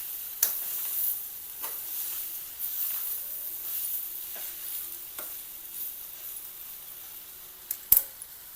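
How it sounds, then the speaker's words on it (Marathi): Amaranth (tandulja) greens being stir-fried in a pan over lowered heat: soft scraping and stirring strokes at irregular intervals over a faint sizzle, with a sharper clatter near the end. "गॅस कमी करायचा आणि परत भाजीला परतून घ्यायचं।"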